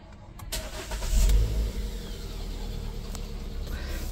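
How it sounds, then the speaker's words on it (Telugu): A 2017 Hyundai Elite i20 petrol car with a manual gearbox cranks briefly and catches on the first try. Its engine swells to a short rev, then settles into a steady, close idle with no one talking. "ఒకసారి ఇంజన్ కూడా స్టార్ట్ చేసి బానెట్ పిక్ చేసి చూపిస్తాను"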